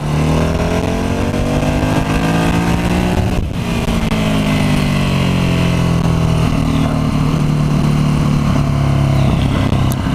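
A Ducati Hypermotard V-twin motorcycle engine roars continuously and close while riding, with rising and falling revs through the gears.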